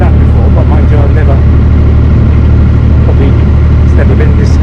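A Dutch barge engine runs at high revs on a river trip through London, a loud, steady, heavy drone that fills the whole clip, with voices talking over it.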